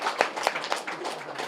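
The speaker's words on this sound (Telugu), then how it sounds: "గురువులందరికీ గట్టిగా క్లాప్స్ కొడదాం." A crowd at a vegetarian rally event in Kodada claps for the gurus, a brief, moderately loud patter of applause that stays even throughout.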